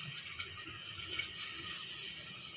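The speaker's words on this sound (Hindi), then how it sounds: "और अब हम इसमें डालेंगे 2 गिलास पानी" Water from two glasses poured into a pot of soaked rice for chana pulao, a steady, moderately loud rushing splash that runs unbroken throughout with no talking.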